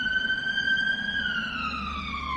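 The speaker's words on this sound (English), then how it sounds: "There's been so many ambulances." Siren of an ambulance passing on a hot summer day, a steady wailing tone that slowly falls in pitch as it goes by, fairly loud against a background of outdoor noise, with no voices.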